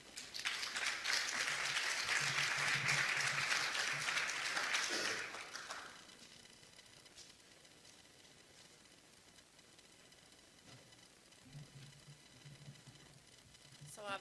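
An audience applauds to welcome two speakers at a healthcare talk, a dense steady clapping that lasts about five seconds and then fades into quiet room noise, with faint murmuring and a brief rustle near the end.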